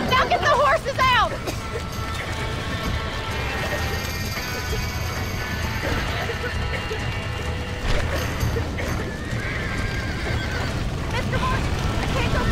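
Horses in Red Dead Redemption neighing and whinnying loudly at the start, then hooves and game commotion continuing under a steady noisy bed with a voice talking.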